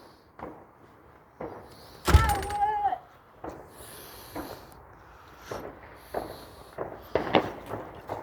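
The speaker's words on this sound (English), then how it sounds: "Fireworks everywhere." Fireworks burst outside at night, a series of booms and crackles at irregular intervals, some near and sharp, others more distant, with a whistling rise among them.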